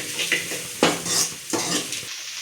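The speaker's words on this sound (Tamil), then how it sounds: "இதை கொஞ்சம் நேரம் நல்லா எண்ணெயில் வதக்கலாம்." Okra sautéing in hot oil for a kuzhambu curry is stirred in a pan: close, scraping spatula strokes come in several distinct sweeps over a soft, steady sizzle, with a clink of metal on the pan.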